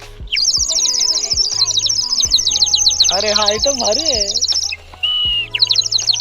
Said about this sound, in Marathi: एक छान मातीची शिटी आहे चिमणी त्याच्यात पाणी टाकायचं